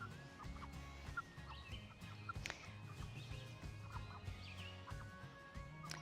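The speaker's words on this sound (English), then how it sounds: "the Cornish cross are just hanging out in the chicken tractor" Cornish cross chickens in a chicken tractor cluck and murmur softly nearby, a low, continuous chorus of quiet fowl chatter with occasional sharper calls.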